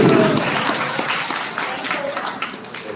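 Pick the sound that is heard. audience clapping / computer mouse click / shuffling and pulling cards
audience clapping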